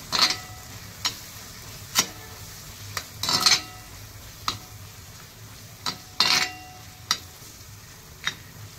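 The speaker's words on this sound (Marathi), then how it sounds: "सर्व मसाले आपल्याला छानपैकी परतून घ्यायचे आहेत।" Ground spices including Malvani masala, coriander powder and garam masala sautéing in oil for chicken liver fry, a soft steady sizzle punctuated by regular sharp spoon taps against the pan.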